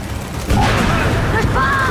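Turrets open fire in the Gears 5 video game battle, with a sudden loud burst of sustained gunfire that starts abruptly and keeps going, mixed with shouting voices.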